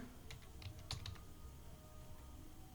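Keys clatter on a computer keyboard during Tally Prime data entry, a few quick, quiet clicks in a short burst, then a louder knock at the end.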